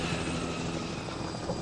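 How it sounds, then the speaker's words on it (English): Helicopter in The Last of Us game, a steady rotor drone holding at a moderate distance throughout, with no talk over it. "We got a helicopter around there."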